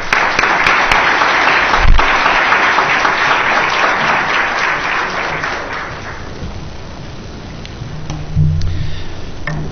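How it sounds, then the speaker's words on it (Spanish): Sustained applause from a large university conference audience, steady and dense for most of the stretch before thinning out toward the end, with a low thump partway through. "Recibámoslos con un fuerte aplauso."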